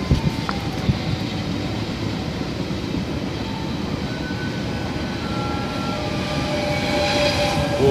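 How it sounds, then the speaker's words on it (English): A train rumbles past outdoors as a steady, broadband roar that holds level and swells slightly toward the end, with faint tonal squeals above, heard at moderate distance without talk. "Oh, waving to the train."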